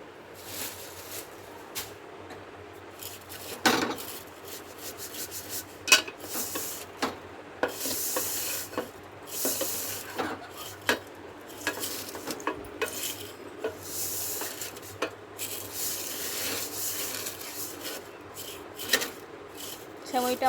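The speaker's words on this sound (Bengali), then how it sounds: "তবু আমি ঘিয়েতে ভালো করে আমি ভেজে নিচ্ছি।" Vermicelli stirred in ghee in a pan gives off close scraping, clinking and rustling bursts at an irregular rhythm over a faint sizzle, moderately loud.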